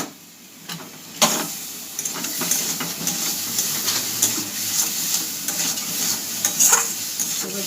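Potatoes go into a pan of spiced masala that has been frying down, giving a close, steady sizzle with scraping stir strokes and a sharp splash of sound near the start, all without voices.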